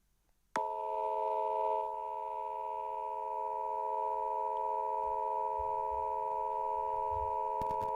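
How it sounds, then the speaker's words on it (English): A steady telephone dial tone starts abruptly after a brief near-silence and holds unbroken and loud to the end, with faint low rumbles beneath it. "Sounds like a dial tone."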